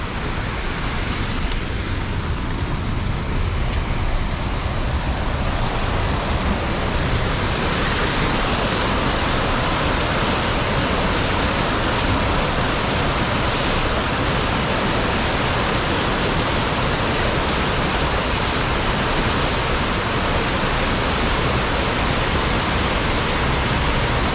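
Tidal water rushes in a torrent along a shoreline, producing a loud, dense, continuous roar that holds steady throughout, with no voices.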